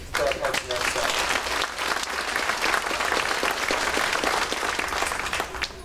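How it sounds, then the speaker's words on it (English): A banquet crowd at the 94th May Day Festival royal party dinner gives a big round of applause for the Parks and Rec staff: dense, sustained clapping, loud and close, with voices mixed in. "So we give a big round of applause for our Parks and Rec staff."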